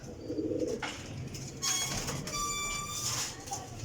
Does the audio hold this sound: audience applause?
no